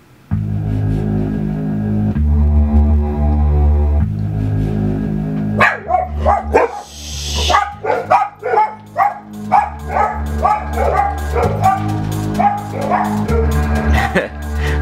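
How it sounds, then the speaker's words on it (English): Dogs bark in short bursts inside a room, sounding loud and close over game music playing from speakers. "I got some really stupid dogs."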